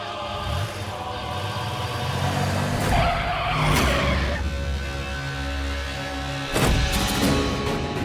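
A car pulls away with screeching, skidding tires and a revving engine. The squeal swells in the middle, and a second sharp skid burst comes near the end.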